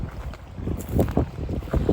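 Strong seashore wind buffets the microphone in uneven gusts, a rumbling low-pitched roar rising and falling with no one speaking.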